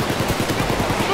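Rapid automatic fire from a small submachine gun in PayDay 2, a steady burst of sharp repeated shots running throughout the brief clip, loud and close.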